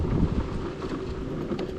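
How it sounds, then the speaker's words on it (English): Steady outdoor wind rushing and buffeting across the microphone while out riding, a continuous low roar with no voices. "That wind is kind of coolish."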